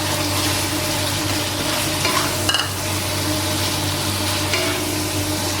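Eggplant being stir-fried in a pan with spicy pork cartilage, a loud, continuous sizzle with the occasional scrape and clink of a flat spoon stirring, close up and with no talking.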